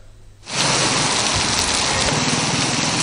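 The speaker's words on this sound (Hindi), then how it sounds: "पंजाब के मुख्तलिफ शहरों में होने वाली मानसून की तूफानी और मूसलाधार बारिशों ने तबाही मचा दी।" Heavy monsoon downpour during stormy weather in Punjab, a dense, loud, steady hiss of rain that surges in abruptly after a quiet start and roars on without a break.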